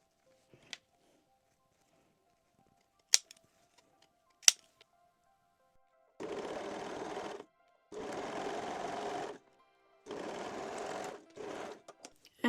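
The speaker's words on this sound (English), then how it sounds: "backstitch all seams with a straight stitch" A sewing machine runs a straight backstitch along a seam of lace Brazilian panties, in three steady bursts of stitching of about a second each, with short pauses between them, after a few faint clicks near the start.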